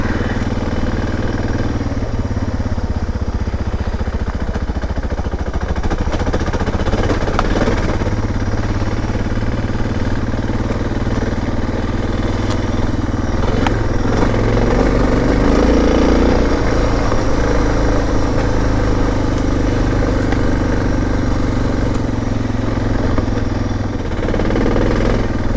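A Suzuki DR650 motorcycle is ridden in second gear, its engine giving a continuous loud, rumbling drone with slight shifts in pitch, and no talk over it.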